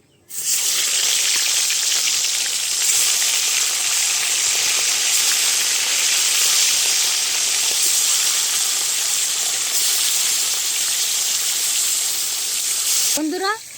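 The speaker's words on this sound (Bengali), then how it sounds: "বন্ধুরা মাছ ভাজা চাপিয়ে দিলাম" Fresh pond fish fries in a pan with a loud, steady sizzling hiss that runs almost unbroken, close and continuous, ending with a brief clatter.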